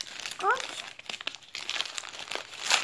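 Crinkly plastic packet and sticky tape being pulled and unwrapped in short rustling bursts, with a voice chirping briefly near the start.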